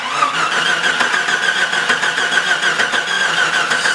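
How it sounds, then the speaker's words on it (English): A Jeep Cherokee's starter cranks its engine without it catching, a loud, close, rapid rhythmic whirring that pulses steadily for the whole stretch. "go ahead and crank the car over"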